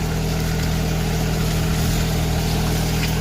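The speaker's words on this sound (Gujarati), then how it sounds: "આવી ગયું છે નાનકડું ટ્રેક્ટર ચાલુ છે" A mini tractor works a farm field, its engine giving a loud, close, unbroken drone that holds steady throughout, with no voices.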